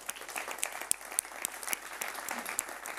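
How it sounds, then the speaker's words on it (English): Audience applause at a tenth-anniversary celebration for the VRT Sandbox, a full, continuous crowd clapping with a few sharper individual claps and faint cheers standing out near the front. "I really want to Give yourself a big round of applause."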